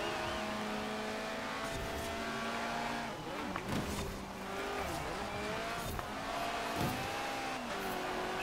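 A Lotus race car from Forza Horizon 4 roars around a custom track, engine holding a steady high drone with shifting revs, brief tire squeals and other cars nearby, loud and continuous throughout.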